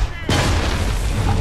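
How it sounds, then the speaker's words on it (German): Cannon fire in Assassin's Creed 3 as the king's army advances: a sudden loud boom erupts after a brief lull and rolls on as a dense, sustained blast, with a voice talking over it. "Setzt die Kanonen gegen sie ein."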